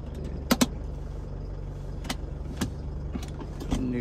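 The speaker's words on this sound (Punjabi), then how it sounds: "ਗੱਡੀ ਆਪਾਂ ਕਰ ਲਈ ਸਟਾਰਟ" A truck engine idles steadily after starting, a low even rumble with a few sharp clicks and knocks from the cab, heard close and alone.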